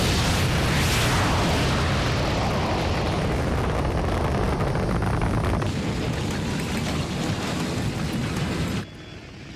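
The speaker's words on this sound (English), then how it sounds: "firing booster rockets." Booster rockets fire in a science-fiction film sound effect, a loud sustained rumbling roar with a crackling hiss that holds for about nine seconds before cutting off abruptly.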